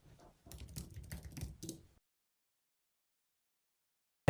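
Quick bursts of keystrokes on a computer keyboard as a short search term is typed, lasting under two seconds and close by, followed by silence.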